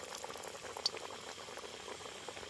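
Ghugni frying in a kadai, a steady close bubbling sizzle with soft crackles and one sharp pop near the start, no voices.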